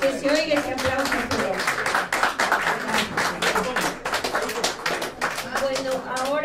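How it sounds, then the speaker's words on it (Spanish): Audience applause at a Cunany Compañeros Unidos community gathering: a dense, steady patter of many hands clapping for several seconds, with voices calling out and talking over it. "que se oiga ese aplauso"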